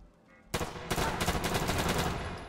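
Bursts of rapid gunfire in the video game Fallout 4 erupt after a brief quiet moment, loud and sustained, with repeated automatic shots in quick succession.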